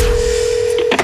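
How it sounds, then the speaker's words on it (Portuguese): Telephone keypad dialing tones from a Portuguese radio station jingle, a steady held tone followed by a quick burst of several DTMF beeps near the end, loud and alone. "Sempre que um telefone toca, pode ser o Nilton"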